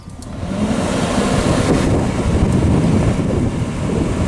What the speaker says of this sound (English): just to ensure clean burn and complete ignition of the splits, hit the turbocharger